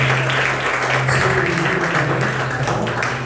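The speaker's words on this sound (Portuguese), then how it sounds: "Deixa eu dar uma salva de palmas para ele, só para ver quem são." A church congregation at a missions service gives a dense, continuous round of applause, loud and steady throughout, over a low electrical hum.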